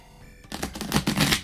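A deck of playing cards is riffle-shuffled during a tabletop card game, making a quick burst of rapid, close, fluttering clicks that lasts about a second.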